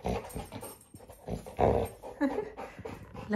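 A small dog growling and panting up close: low rumbling growls and breathy pants in irregular bursts, with no talk.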